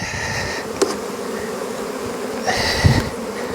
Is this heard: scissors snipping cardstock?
no